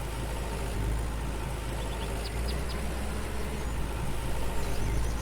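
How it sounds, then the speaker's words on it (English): A tractor engine in the video game Farmer's Dynasty idles with a steady, low rumble throughout, with faint rattling overtones and a few brief high clicks, no voices. "Tractor sounds like a popcorn machine."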